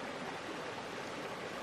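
Crystal-clear rainforest stream water flowing in a steady, soft rush, with faint continuous burbling and no voices.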